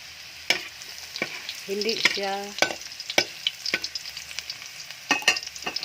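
Garlic sizzles in palm oil in a pan, a crackling hiss broken by sharp scrapes and taps of a spatula stirring, with a brief metallic ringing clatter near the middle.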